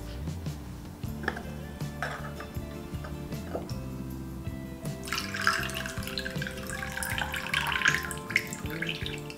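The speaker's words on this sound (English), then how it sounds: "the reason that we're pouring water in from a relatively higher point is to make sure the water stream is strong enough" Water poured from a raised height into a porcelain gaiwan during gong fu cha tea brewing, a steady trickling stream that builds into a brighter, splashier pour in the second half, over a low background hum.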